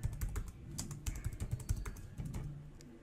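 Fingers type on a computer keyboard, a quick irregular run of close, crisp key clicks lasting a few seconds with no talking.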